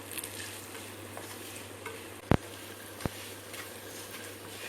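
Mutton liver fries in a pan on a medium flame, giving a quiet steady sizzle with a couple of sharp utensil clicks against the pan partway through.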